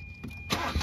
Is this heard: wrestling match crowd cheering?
no